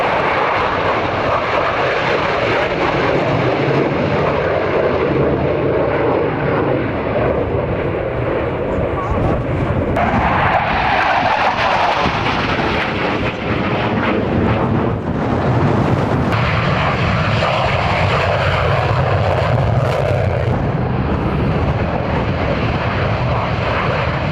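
Loud continuous aircraft engine roar at Mildenhall Airfield, a broad sustained rumble that swells and shifts as the plane passes, with a voice talking over it throughout.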